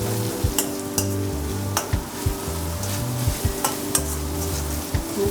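Sliced onions fry in a pan with a pinch of salt and some sugar, a steady sizzle under regular clinks and scrapes of stirring, close and continuous with no talk.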